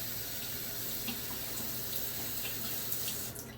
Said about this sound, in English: running water, it rinses clean real easy